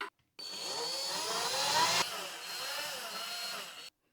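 A power drill drives a screw to mount a wall sconce bracket, a steady whirring run of about three and a half seconds, close and fairly loud, with a brief pitch shift midway.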